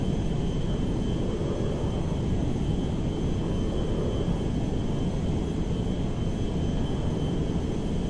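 A Boeing 747 firefighting tanker plane in GTA 5 flies overhead with a steady, loud, unbroken jet-engine roar that stays at a constant level throughout.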